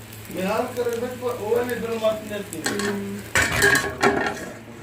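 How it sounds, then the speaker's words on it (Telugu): A lid is set onto a pan over a ragi roti cooking on the stove, a short metallic clatter near the end, heard close after someone talks over faint kitchen noise. "మూత పెట్టు"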